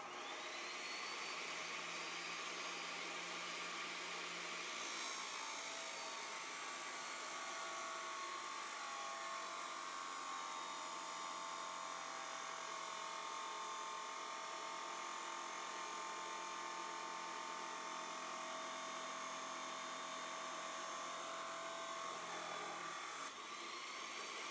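A saw grinds slowly through a car axle at a farm during a tiny car build, a steady loud whining drone with shrill metallic overtones that holds for most of the stretch before easing off near the end.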